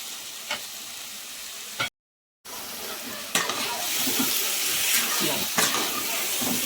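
Chicken curry with spices frying in a pan while being stirred, a steady close sizzle with scraping stir strokes that grows busier after a brief dropout.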